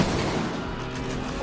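Gunfire aimed at a red-lit tank in Ghost Recon Breakpoint, heard as a dense, continuous burst of booming shots and rumble that holds at steady loudness throughout, with no talking.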